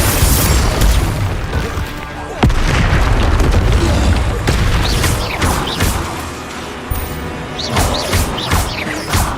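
Repeated loud booming blasts of the Confringo fire spell in Hogwarts Legacy, heavy explosions and crashes landing one after another over a continuous rumble of spell combat.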